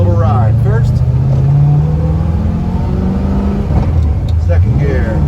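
A 1966 Chevrolet Nova restomod pulling away in first gear, its engine rumbling loudly and rising in pitch as it accelerates, heard from inside the car with a voice speaking over it.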